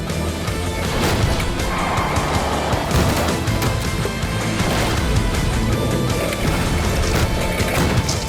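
Taxi cars crashing during a race, a loud jumble of metallic bangs, thuds and scraping over roaring engines and rumbling noise, busy and close throughout.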